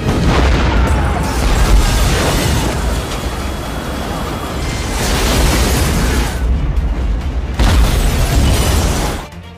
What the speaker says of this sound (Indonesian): dilempar oleh Gordy tiba-tiba meledak